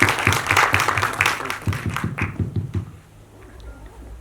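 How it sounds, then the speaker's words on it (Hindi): A trailer launch audience greets film director Kritik Kumar with brisk, close applause mixed with rhythmic clapping. The clapping fades out after about three seconds, leaving faint room noise. "जोरदार तालियां होनी चाहिए फॉर कृतिक सर।"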